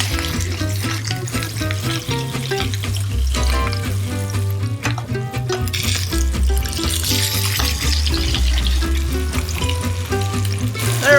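A steelhead fillet frying in browning butter, a loud, close, crackling sizzle that runs the whole time with watery spatters and no voices.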